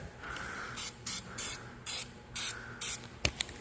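Short bursts of hissing aerosol spray from a can of Flex Seal nozzle, about seven evenly repeated squirts close by, followed by a couple of light clicks.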